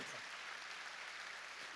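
A congregation claps at a Korean church's New Year's Eve worship service, a dense, steady wash of applause filling the room throughout.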